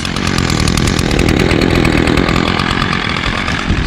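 A Craftsman push lawn mower with a Briggs & Stratton 6.75 Quantum auto-choke engine, over 25 years old, idles steadily. Its loud, close, even engine drone sputters rapidly and never stops.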